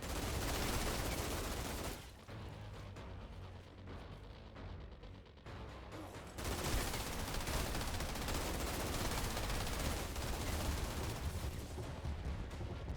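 Gunfire in the video game Outriders: dense, loud, continuous weapon fire and explosive bursts fill most of the clip, with a brief quieter lull before the heavy firing resumes.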